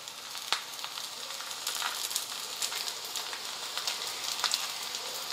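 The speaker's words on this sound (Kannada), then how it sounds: "ನಾನು ಬೆಳಗ್ಗೆ ಬೆಳಗ್ಗೆ ಎಣ್ಣೆದು ಬೇಡಪ್ಪ ಅಂತೇಳಿ ಶಾಲು ಫ್ರೈ ಮಾಡಾಕತ್ತೇನೆ ರೀ" Patties of leftover cooked rice shallow fry in oil in a pan, giving a steady close sizzle with scattered crackles and pops throughout, no voices.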